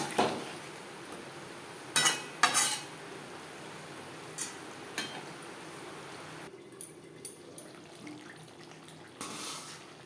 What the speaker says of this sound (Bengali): আলুর সাথে মশলা বেশ ভালো করে মিক্স করে দেবো।